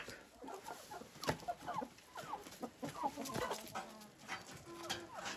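Chickens, a large hybrid of mini meat breed and Bresse Gauloise, cluck and murmur continuously in a busy flock, with overlapping calls close by and no talking.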